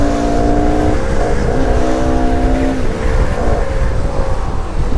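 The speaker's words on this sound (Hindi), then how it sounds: "क्या गया शफकत भी पीछे, लगी गाइस रेस।" A scooter and a Yamaha R15 motorbike race on a road, engines droning loudly and steadily throughout, with rising harmonic whine as they accelerate and wind rushing over the microphone.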